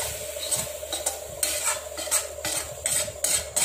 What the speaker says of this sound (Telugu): ఇప్పుడు షాలో ఫ్రై అయిన మష్రూమ్స్ ఆలు మనం దానిలో కలిపేసుకుంటామండి, బాగా కలిపేసుకోవాలి.